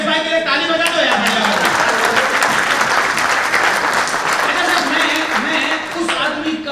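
An audience at a gathering of a small-scale paint association claps loudly and steadily throughout, with a voice talking over the dense applause.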